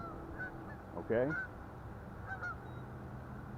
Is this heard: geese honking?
yes